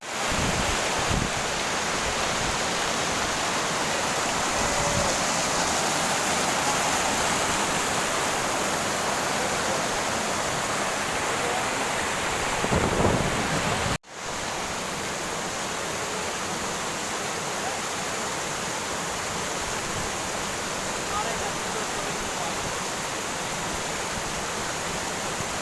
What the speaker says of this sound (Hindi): पीछे शानदार झरना है।